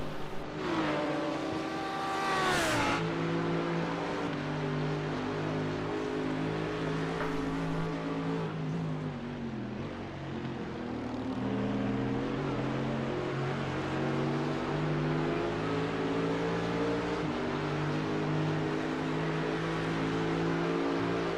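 Race cars in a sim racing game, BMW, Mercedes and Porsche, drone along together with steady layered engine tones that swell and shift as they fight side by side, loud and continuous, with no talk over them.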